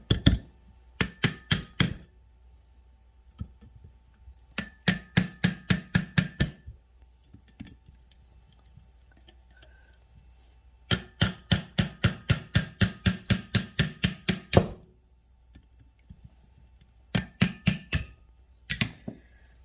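A small hammer taps rusty brake parts on an International 300 tractor in rapid clusters of sharp metallic strikes, roughly six to fifteen per burst, with short pauses between bursts, close and crisp.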